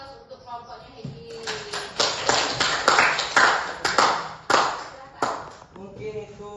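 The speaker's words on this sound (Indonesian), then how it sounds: "beri aplaus untuk kelompoknya Hedi" Applause for a discussion group in a classroom, a group of people clapping in loud, uneven bursts, with voices heard around it in the room.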